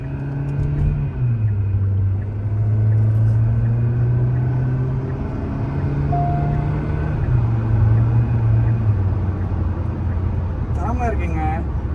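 A Hyundai Creta engine hums steadily inside the cabin while being driven with the paddle shifters, its tone stepping down at gear changes. A brief voice is heard near the end.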